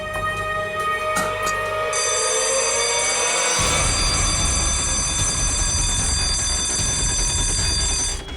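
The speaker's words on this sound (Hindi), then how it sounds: "सर अलार्म की आवाज आई" Electronic alarm rings loudly and steadily in a room whose door shuts by itself, a sustained high tonal ringing that carries on alone for about eight seconds, joined by a low rumbling layer partway through.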